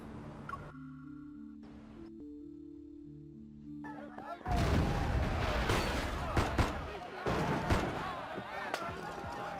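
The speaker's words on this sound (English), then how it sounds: "Gunfire and the sound of tables and chairs getting knocked over intermingle" In the Love & DeepSpace video game, a quiet musical lead-in gives way to a busy burst of gunfire mixed with tables and chairs crashing over, with repeated sharp impacts and clatter lasting several seconds.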